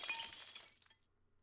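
Glass shattering in the video game Game Builder Garage when a transparent block breaks, a short burst of bright crashing shards that quickly fades to silence, quiet and without talk.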